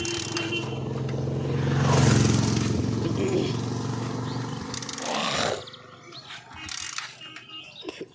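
A motorbike engine roars to life and revs loudly after a kick-start, rising to a peak then cutting off abruptly, followed by quieter handling noises and people talking nearby.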